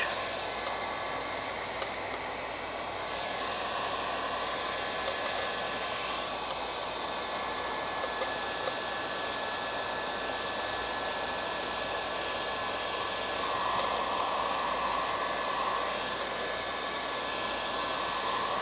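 A heat gun warms PPF film on a Tesla fog light, giving a steady, close whooshing blower hiss that runs unbroken for the whole stretch with no talking.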